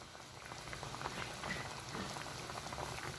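Paksiw broth for a beef-eye fish stew simmering in a pot with a little oil on top, a steady bubbling wash that stays even and moderately loud throughout, with no voices.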